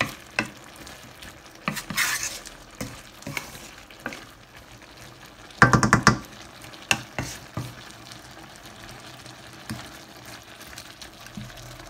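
Shrimp stir-fry with fresh holy basil leaves and chilies sizzles in a pan, with a steady frying hiss broken by bursts of scraping and stirring, loudest near the middle, and no voices.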